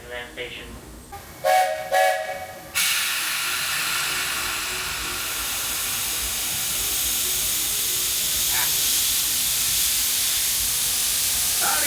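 The Walt Disney World Railroad steam train near Frontierland Station, first a couple of short whistle blasts, then a steady loud hiss of steam that carries on under a faint voice.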